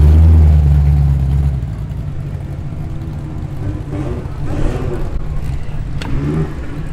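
A dark blue car arriving at the Cars Under the Stars show in Sydney, Australia, gives a loud, deep engine rev up close, then its engine note drops into a lower rumble as it rolls past amid background noise.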